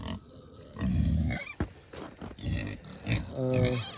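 Farm pigs grunting in a series of rough, close bursts at moderate loudness, with a voice briefly heard near the end.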